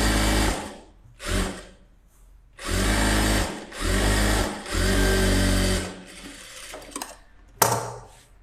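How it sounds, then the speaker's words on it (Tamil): A sewing machine stitching a folded-in hem, running in several steady buzzing bursts of a second or so, separated by brief pauses, loud and close. "இதையும் அதே மாதிரி உள்ளே மடித்து எம்மிங் பண்ணி தையல் போட்டுருங்க"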